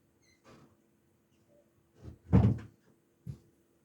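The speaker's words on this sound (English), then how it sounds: "Let me close my door." A bedroom door is closed at home with a soft shuffle, then a firm thud and a lighter knock a moment later, close by and with no talk.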